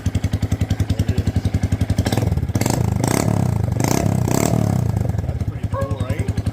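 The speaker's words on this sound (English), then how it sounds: "Just see how she sounds without the exhaust even on." A Honda Grom motorcycle engine runs with no exhaust fitted, idling with a fast, harsh pulsing, then revving up loudly for a few seconds before dropping back to a lumpy idle, with people talking over it.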